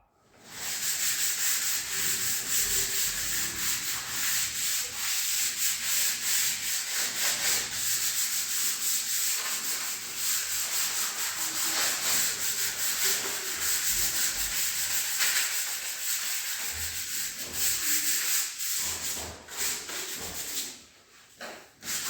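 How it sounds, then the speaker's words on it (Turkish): Continuous abrasive rubbing of sandpaper scraping across a satin-plaster-coated wall, steady and close, with rhythmic back-and-forth strokes and no speech. "Zımpara işte bitti."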